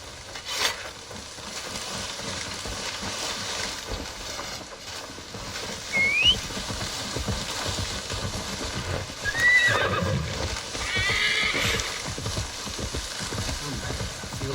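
A horse in Assassin's Creed Valhalla whinnies in high, rising neighs, with clip-clopping hooves and rustling movement around it at close range.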